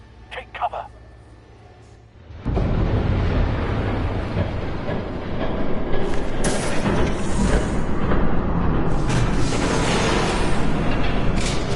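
A train approaches and passes in the Batman: The Telltale Series video game, its heavy rumble rolling in abruptly after a quieter opening and staying loud and roaring to the end, with rattling surges.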